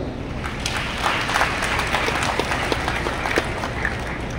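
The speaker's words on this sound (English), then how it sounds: "Let us all give them a round of applause." Sustained applause from a large crowd at a university graduation hooding ceremony, steady clapping throughout with scattered sharper claps, fairly loud and continuous.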